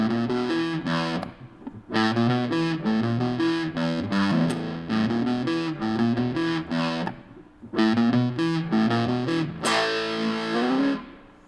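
Distorted electric guitar playing a song's reprise, a blues-rock riff of repeated chugging low notes broken by brief pauses, loud and close, ending on a ringing sustained chord with no talking.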